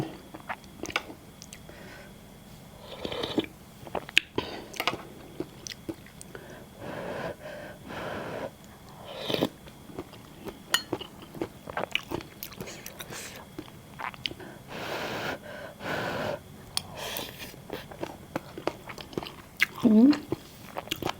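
Close, wet chewing and crunchy bites of a yellow ra-ngok mushroom curry eaten with fish-sauce chili dip and rice, with repeated irregular crunches and breathy sounds throughout.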